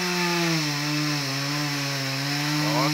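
A chainsaw running steadily close by, a loud droning buzz with slight pitch shifts as it cuts into wood.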